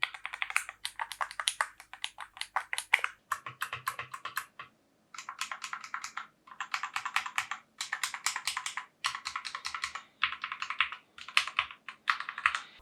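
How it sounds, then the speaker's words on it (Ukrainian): Rapid typing on an A4Tech FS100 mechanical keyboard in bursts separated by short pauses, crisp clicky keystrokes heard up close with no voices. "Клавіатура не шумна, навіть при активному наборі тексту."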